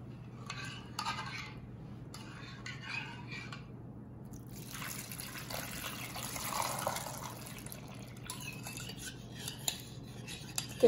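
Water runs and splashes into a metal pot holding cinnamon and bay leaves for Lebanese stuffed zucchini, in bursts, with light clinks of utensils over a steady low hum; no talking.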